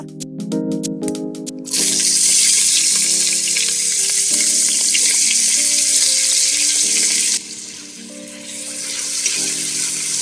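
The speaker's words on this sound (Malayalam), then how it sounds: "ഇനി ഇതിനകത്തോട്ട് ഞാൻ തേണ്ടേ നമ്മുടെ ഒരു സവാള ഒരു രണ്ട് സവാള ഉണ്ടാവും ഇത് ഇതിനകത്തോട്ട് ഇടുക" Two onions dropped into hot oil in a pan already used for frying chicken for chicken 65 biryani, giving a loud, steady sizzle that starts abruptly after a few clanks, continues close up, then drops slightly in intensity near the end.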